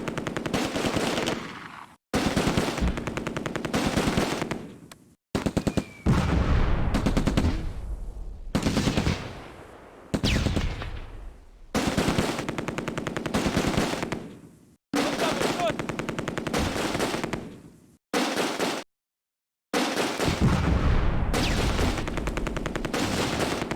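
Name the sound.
machine gun fire in video game Close Combat: A Bridge Too Far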